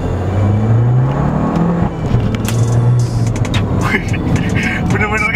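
A 2013 Fiat Abarth 595 Turismo in manual mode accelerates hard in first gear, its engine note climbing steadily in pitch, loud and close, with other cabin and road noise layered over it.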